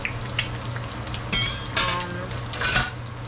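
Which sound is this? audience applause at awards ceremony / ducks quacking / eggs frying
eggs frying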